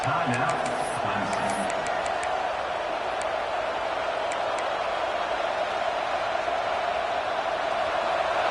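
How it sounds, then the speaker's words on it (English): A stadium crowd roars at a Clemson college football game during a fourth-down stand, a loud, sustained wash of cheering that does not let up, with a commentator talking over it. "This crowd busting the decibel meter and trying to will a fourth down stop."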